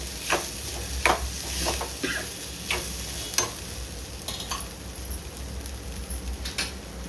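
Ground tomato mixture roasts in a pan, giving a soft, steady sizzle with scattered clicks and taps of stirring, quiet and close, with no one speaking.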